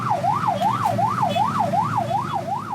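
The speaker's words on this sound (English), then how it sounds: "This is my siren." An ambulance siren in Jakarta wails in a fast, regular rising-and-falling sweep, loud and close, repeating about six cycles with traffic rumble underneath.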